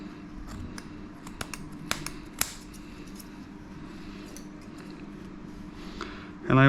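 A few sharp snips of scissors cutting matted fur on a dog's tail, close and distinct, over a quiet background, followed by a brief louder rustle at the end.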